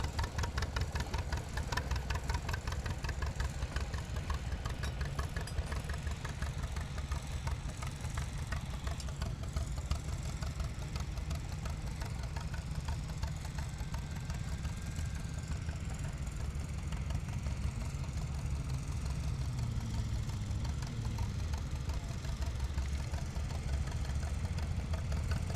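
A small restored vintage tractor, the smallest model of its line, idles steadily at a show, its engine throbbing with an even knocking pulse throughout, close and continuous with no voices.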